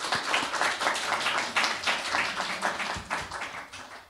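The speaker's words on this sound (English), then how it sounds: "a round of applause for all of my colleagues who presented today" Applause from a modest audience of colleagues after presentations, a sustained patter of individual claps heard fairly close, with no speech.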